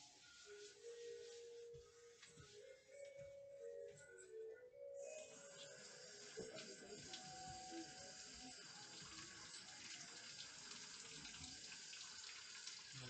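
Tap water runs steadily into a kitchen sink during rinsing, growing fuller and louder partway through, with background noise and no clear talk.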